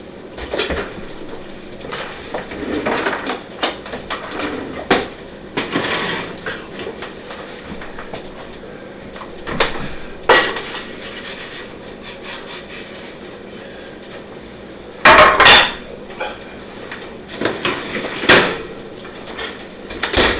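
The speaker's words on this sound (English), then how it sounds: "Okay, now the oven's preheated. Let's go ahead and put our pizza in." A homemade pizza goes into a preheated kitchen oven, with scattered rubbing, sliding and scraping noises, soft knocks, and a sharp clunk of the oven door near the end.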